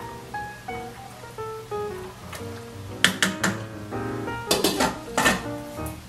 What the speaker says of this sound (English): Alright, my water's boiling, so I'm going to add my pasta.